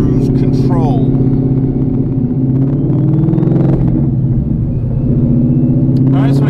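A Whipple-supercharged 2016 car engine idles steadily as it warms up, a continuous deep rumble with faint mechanical clatter that stays even and close throughout.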